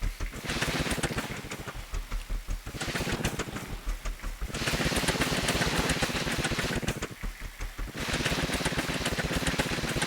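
The engine of a built vehicle in the video game Scrap Mechanic runs with a rapid, pulsing mechanical chug that stays loud and close, surging and easing in regular cycles.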